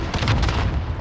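An RPG rocket explosion in Call of Duty: Modern Warfare, a loud, dense boom with a heavy low rumble that fills the whole second without fading, alone and with no talking.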